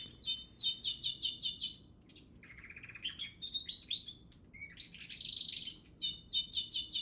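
A pet bird tweets indoors in a series of bright, rapid chirping trills, with short pauses and varied notes between bursts, close and clear against a quiet room.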